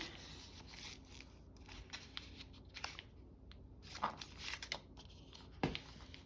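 Scissors trimming material, heard as quiet, irregular snips and crisp cutting clicks close by in a soft, otherwise still room.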